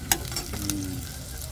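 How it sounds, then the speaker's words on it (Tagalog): Garlic sautés in a pan with a soft, steady sizzle and a few quick stirring scrapes, fairly quiet and close with no voices. "Igisa muna natin bawang."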